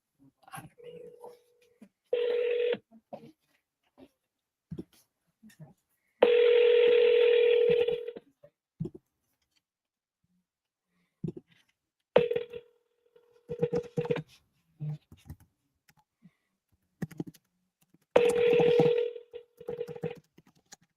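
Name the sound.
telephone call dialing and ringing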